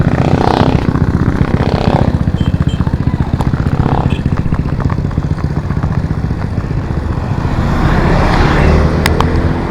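Motorcycles and road traffic roar close by on a busy street, a steady loud engine drone with passing vehicles swelling and fading throughout, no talk over it.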